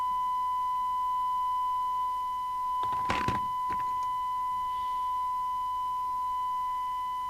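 A DNT M40 CB27/81 UK FM CB radio puts out a steady, unbroken test tone that holds through the whole stretch, with one short burst of broadband noise cutting across it midway.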